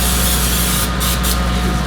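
Cooking spray misted onto baked pasta-stuffed chicken: a continuous loud, close hiss lasting about two seconds, alone with no talk.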